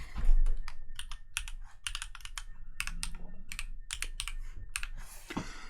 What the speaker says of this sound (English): I just press yay, and then I'll put the password in.